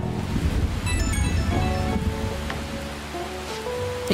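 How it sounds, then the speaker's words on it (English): Steady rain falls in the Persona 5 Royal video game, a continuous, even patter of drops with soft chiming game tones drifting over it. "I'm loving the sound of this rain."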